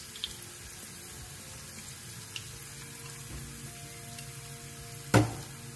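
Garlic roasts in a pan before beef is cooked, giving a steady, faint frying hiss with a few soft clicks and one sharp clatter near the end.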